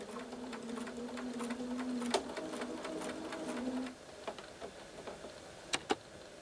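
A sewing machine stitches a quilt block seam in a steady, fast mechanical whir for about four seconds, then stops, followed by a few quiet clicks and taps nearby.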